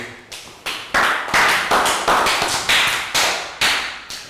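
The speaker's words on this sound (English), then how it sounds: "Round of applause for Nadia." Classroom applause for a Year 3 pupil named Nadia during a social studies lesson: a run of sharp, separate claps from a small group, uneven in rhythm and close by, with no voices over them.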